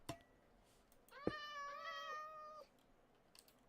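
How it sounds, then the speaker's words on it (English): A pet cat gives a single drawn-out meow, close and clear, with a sharp click just before it and a quiet room around it. "Just me and my cat."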